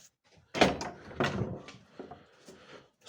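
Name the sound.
closing the house doors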